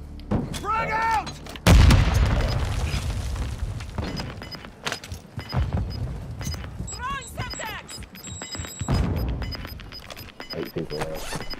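A frag grenade blast in Warzone, a sharp heavy boom that rises out of continuous battle noise with gunfire, radio-style squad chatter and game voice lines running throughout.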